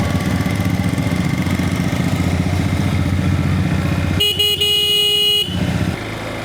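Honda Hornet 2.0 motorcycle engine while riding, held around 4000 rpm: a loud, steady buzzing drone close by with a brief change in tone near the end, no speech.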